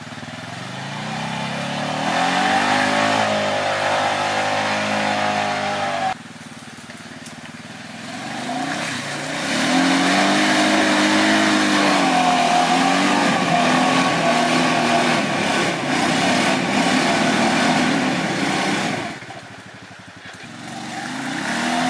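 A Honda Pioneer 500 side-by-side with a Torq Locker works its engine hard off-road, rising and falling in revs as it strains over rough ground, loud and close with a brief dip midway.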